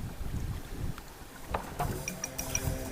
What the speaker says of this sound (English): I am paddling through Third Road. Third Road has become waterway.